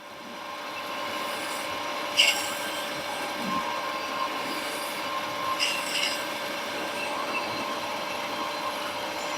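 A metal lathe faces off a part for a handmade Buell rigid chopper, giving a steady mid-level machine whir with a faint scraping of the cut and a couple of brief sharper scrapes.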